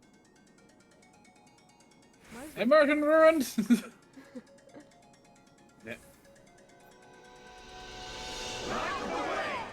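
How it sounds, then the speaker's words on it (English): A phone rings with a repeating electronic tone, loud and near for about two seconds, followed by brief talk and a rising hiss. "My dad's phone was ringing"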